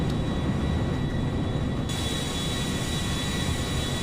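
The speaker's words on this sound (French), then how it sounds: "Il est vraiment classe cet avion." Airliner flying in GTA V, a constant, loud broadband jet roar with a thin high whine on top, steady throughout with no voices.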